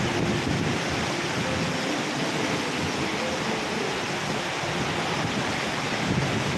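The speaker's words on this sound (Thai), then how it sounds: "น้ำไหลเลยครับผมไม่ไม่มีหลังคาครับ" Steady, loud rushing noise of heavy rain and flowing water pouring through an unroofed spot, continuous and close, with a gusty, windy texture.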